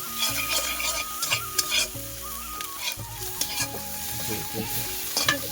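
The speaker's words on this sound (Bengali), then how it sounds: "এভাবে এরপর ভালোভাবে মশলাটাকে কষিয়ে নেব।" Spice masala paste sautéing in a pan, loud close sizzling broken by repeated spatula scrapes and clatters as it is stirred, no voices.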